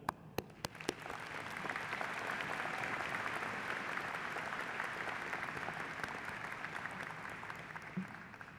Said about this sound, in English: please take a moment to applaud all of them